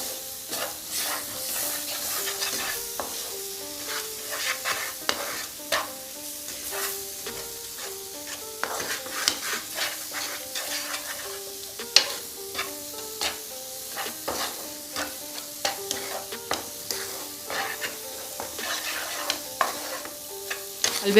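Gram flour halwa being stirred in a pan after milk is added, with repeated scraping spoon strokes over a soft, steady sizzle, close and with no talking.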